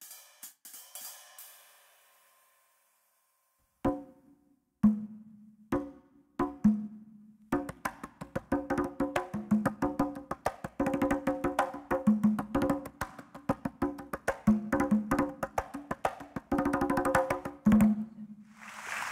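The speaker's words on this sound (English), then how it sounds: "We think it's a conga drum." Conga drum in a kids' secret-sound game: after a few scattered single hits, a rapid, busy run of close hand strikes with bright resonant tones and varied accents continues to the end, with no talking.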